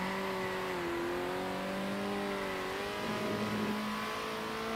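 Race car engine in Circuit Superstars, Faenza track: a steady, loud drone with rising and falling pitch as the car speeds up and lifts off, continuous throughout with no voices.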